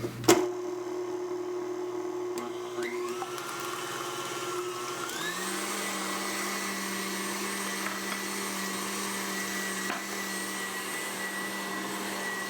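An electric mixer beats egg whites in a steady close whir that shifts pitch partway through and keeps running loud and even with no talking.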